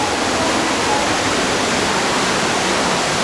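Water pours and falls continuously inside Partnach Gorge, a dense, steady rushing roar that fills the rocky chasm evenly, with no individual drips standing out and no voices.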